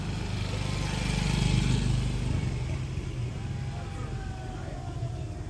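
A motorcycle engine runs steadily close by outdoors at a buffalo slaughter during a funeral ceremony, a continuous low rumble that swells briefly then holds, with voices talking over it.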